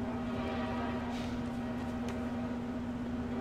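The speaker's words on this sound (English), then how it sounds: "Wait till you can hear the train coming." A train approaching in the Half-Life 2 video game on Xbox 360, a steady low rumble with a constant droning hum and a couple of faint metallic hisses rising briefly over it, no talking.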